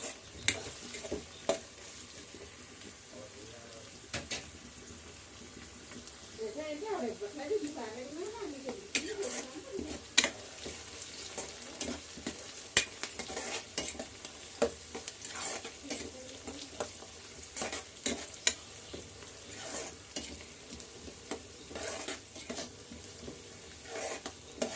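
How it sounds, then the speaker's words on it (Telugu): Frying food is stirred in a pan until brown, a continuous soft sizzle broken by irregular clacks of a spoon against the pan, with a voice speaking partway through. "ఇది బ్రౌన్ కలర్ వచ్చేంత వరకు మనం వేయించుకుందామండి"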